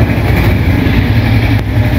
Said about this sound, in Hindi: ये इन दोनों ने कोल्ड स्टार्ट कर दी है।